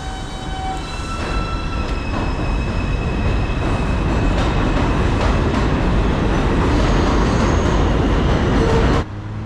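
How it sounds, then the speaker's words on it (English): A New York City subway train in the Bronx, heard from the station as a loud, steady rumble and rattle that holds for about nine seconds and then cuts off abruptly, with no talking over it. "I just came off the train"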